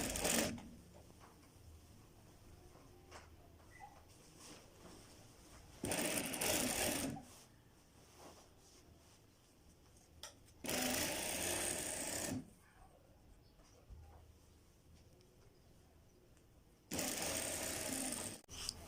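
A sewing machine stitches kurta pieces in three loud bursts of rapid mechanical whirring, each lasting a second or two, separated by quiet pauses.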